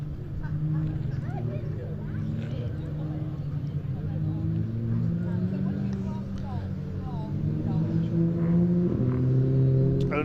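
Identical 2-litre TFSI front-wheel-drive Audi TT coupes racing in the Audi Cup at Pembrey, engines rising and falling as cars pass, with a commentator speaking over the noise.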